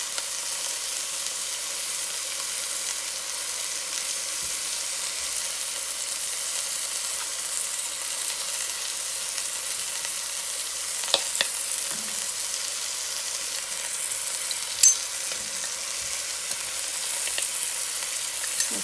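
Pot roast meat sears in a hot pan with a steady, even sizzle that runs on without a break, with a couple of faint clicks of utensils and no talking.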